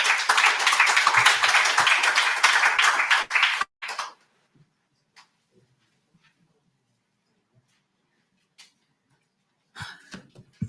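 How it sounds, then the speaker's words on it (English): A conference audience at a cooperatives and fishing industry breakfast summit gives a burst of loud, dense applause that lasts about four seconds and stops abruptly. A quiet stretch follows, then a brief spatter of claps near the end. "can you please give a warm round of applause for Mr. John Peters"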